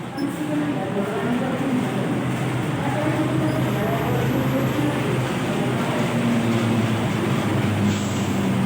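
The Penataran train to Blitar via Malang pulls into Wonokromo station, a steady, loud broadband rumble of the moving train that holds without break from start to finish.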